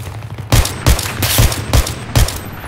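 SVD sniper rifle firing in a video game: five loud, evenly spaced shots at roughly 0.3-second gaps, each a sharp booming crack that stands out from a steady low background hum.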